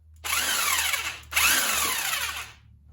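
Power tool whirring to spin a nut off the top of a Porsche shock absorber, two close, loud bursts of about a second each with a brief pause between, no talking.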